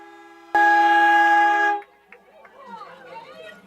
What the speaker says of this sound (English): I'm ready for the battery to die on that train horn